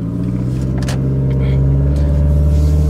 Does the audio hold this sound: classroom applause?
no